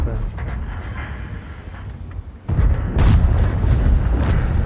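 Heavy impact of a tank shell striking a tank in World of Tanks, a deep booming thud followed by a sharp crashing burst, loud and close, over low rumbling engine noise.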